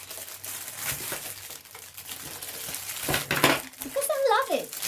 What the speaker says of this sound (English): Sorry for crinkling. I love crinkling.